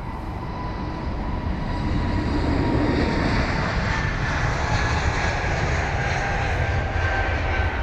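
Boeing 787 jet airliner engines at London Heathrow, a continuous loud roar with a steady whine on top, sustained and fairly close for the whole stretch, with no voices.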